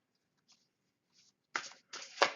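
Cards from an Inner Child oracle deck are shuffled by hand, giving a few faint soft rustles and then two louder riffling bursts near the end, close and without speech.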